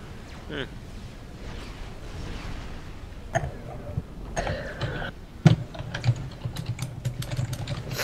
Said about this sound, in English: Can you stop typing so badly, please?